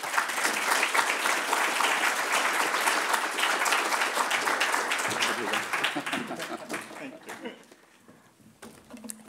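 Audience applause fills a hall to welcome a keynote speaker at an economic policy forum, dense steady clapping that thins out and fades toward the end.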